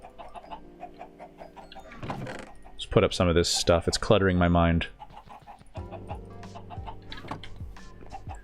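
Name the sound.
Iron Chicken clucking in Minecraft video game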